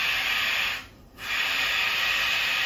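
A SAYONApps steam station releases a loud, continuous hiss of steam that drops out briefly for a moment, then resumes at full strength; close and steady, with no talk.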